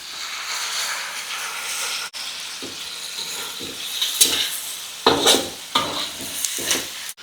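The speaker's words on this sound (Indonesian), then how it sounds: "Oke, lanjut kita masukin kecap ya." Sweet soy sauce going into a frying pan with onion and sausage, a steady close sizzle with scraping stir strokes and a few sharper bursts of frying toward the end.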